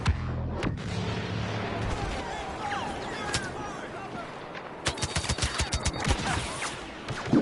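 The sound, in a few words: turret gunfire in the video game Star Wars Battlefront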